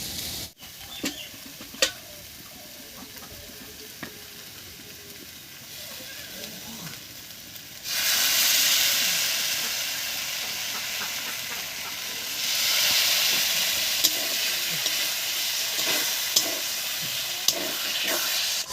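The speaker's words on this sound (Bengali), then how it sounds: "এবার এর মধ্যে দেব গোবিন্দভোগ চাল বাটাটা আর এর মধ্যে একটু জল মিশিয়ে নিতে" Gobindobhog rice paste with water is stirred into cumin and ginger paste in a pan for a mochar pithali (banana flower) dish. Soft scraping gives way to a loud, sustained sizzling hiss that swells twice, with no talking.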